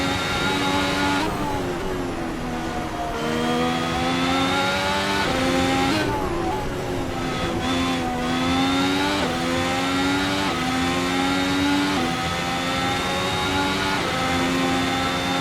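A race car's 1.6-liter V6 engine revs hard on track, its high whining note climbing repeatedly through the gears with brief dips at each shift, loud and close throughout with no talking.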